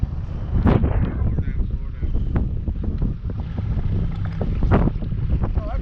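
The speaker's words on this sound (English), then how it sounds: "Out here it's so windy today, it don't matter if you got a motor or paddle." Strong gusting wind buffets the microphone out on open water from an Old Town Sportsman 106 boat with a Minn Kota motor, with waves and splashing under it and a voice faintly in places.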